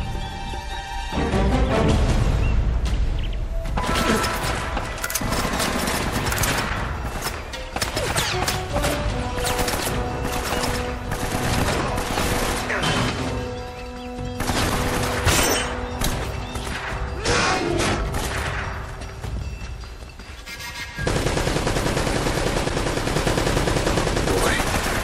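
Heavy mounted gun fire in Uncharted: Drake's Fortune at the fortress, sustained loud bursts and crashing impacts over a thick game score, with a brief lull near the end before the barrage resumes.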